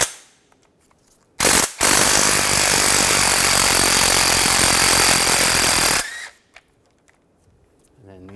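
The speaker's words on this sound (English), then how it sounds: "I'm gonna take these bolts out for the bracket. Use a 13 millimeter socket." An air impact tool spins out starter bracket bolts on a 2005-2010 Chevy Cobalt using a 13 mm socket, with two close, loud bursts: a very short one followed by a sustained whir of several seconds, then quiet.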